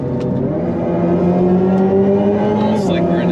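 A 2025 Hyundai Ioniq 5 N plays its simulated Evolution-mode engine sound while driving, a loud droning synthetic tone that rises in pitch, with talking in the car over it.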